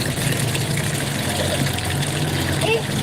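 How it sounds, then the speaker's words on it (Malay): An electric motor pump lifts ablution water, running as a steady, continuous drone with a low hum and broad hiss, unchanging throughout. "Inilah motor untuk mengangkat air kita air wuduk."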